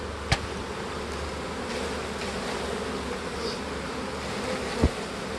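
A dense, steady drone of many honey bees buzzing close by while a new package is installed in a hive, continuous throughout, with a couple of faint knocks.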